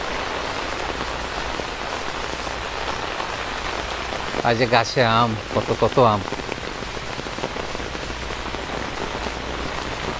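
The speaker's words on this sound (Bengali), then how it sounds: "এতক্ষণ অপেক্ষায় ছিলাম কখন মুষলধারে বৃষ্টি নামবে" A heavy downpour in Florida pours steadily onto the ground and leaves, a dense, unbroken roar of rain throughout, with a person speaking briefly midway.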